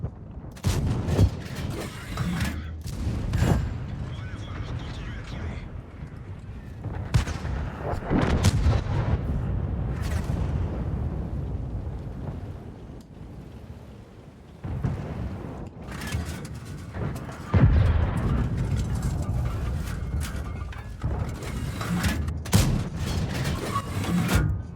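Tank cannon shells firing in World of Tanks, a run of heavy booming blasts with rumbling tails spread across the stretch, loud and repeated, with no talk.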